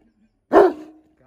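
A single deep, loud bark from a large dog, close by, ringing briefly before fading into quiet.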